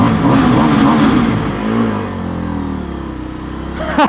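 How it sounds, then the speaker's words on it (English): An Indian FTR motorcycle on its standard exhaust revs up loudly close by, the engine note rising and then settling back to a lower, steady rumble before a brief blip at the end. "this is the standard exhaust"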